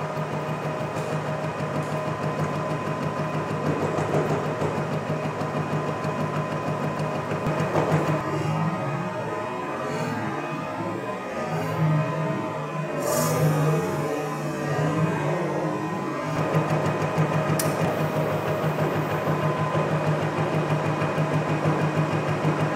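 Vertical shaper machining a new tool holder, taking a 1/4 inch side cut at a 10 thou feed, runs as a steady mechanical hum, with a rougher, busier cutting stretch in the middle of the run.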